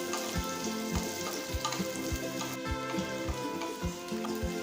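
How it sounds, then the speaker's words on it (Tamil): Small onions, about a cup, sautéing in a pan with chillies for a millet idli dish: steady close sizzle and crackle, punctuated by regular knocking thumps of a spoon stirring against the pan. "சின்ன வெங்காயத்தை நல்லா வதக்கிக்கலாம்"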